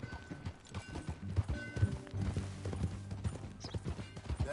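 Horse hooves clip-clop steadily in the video game Red Dead Redemption, a close, even trotting rhythm with faint mechanical rattles and a low musical drone underneath.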